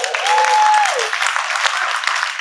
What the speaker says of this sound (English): Like, clap to yourselves for taking out the time.